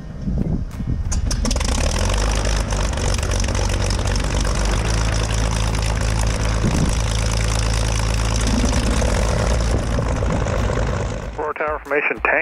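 A light aircraft engine idles at Aurora airport before taxiing, a loud, steady propeller drone filling the whole stretch without pause before cutting away abruptly near the end.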